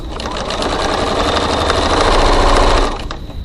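A sewing machine runs steadily, stitching the seam of a crossbody bag's pocket at a 3/8-inch width, a close, continuous mechanical whir that keeps up for about three seconds before stopping.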